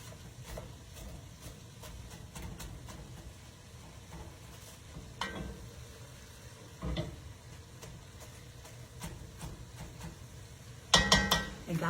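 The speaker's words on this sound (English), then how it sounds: "I've added my onions to my meat, and we're just letting them saute up in the meat a little bit" Onions sautéing with ground meat in a home kitchen pan, a low soft sizzle under scattered stirring scrapes and utensil clinks, with a louder clatter of cookware near the end.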